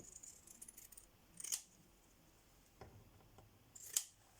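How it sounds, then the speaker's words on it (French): Scissors snip paper for a birthday card box, two brief crisp cuts spaced a few seconds apart, close but quiet against a faint room hush, no talking. "autant que je coupe tout de suite"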